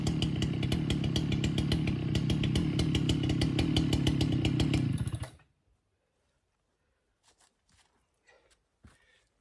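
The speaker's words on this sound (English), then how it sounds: "using that big chainsaw just went right through it, that 93cc Husqvarna. It just went right through that blue oak." A 93cc Husqvarna chainsaw cuts through blue oak with a loud, steady high-revving buzz for about five seconds, then stops abruptly, leaving near silence broken only by a few faint scattered knocks and footsteps.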